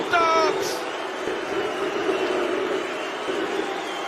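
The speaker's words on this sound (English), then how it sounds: "And the boos." A darts crowd at the Players Championship lets out sustained, rumbling boos that fill the arena at a steady level, after a brief high whistle at the start.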